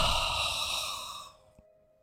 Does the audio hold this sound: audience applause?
no